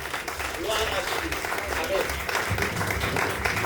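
A church congregation applauds to acclaim Jesus, steady dense clapping from many hands filling the room, with voices mixed in beneath the applause.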